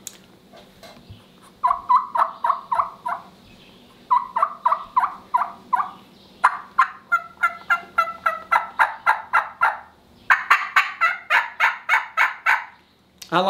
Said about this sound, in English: You can even get those little raindrop yups like those Marion Rios make.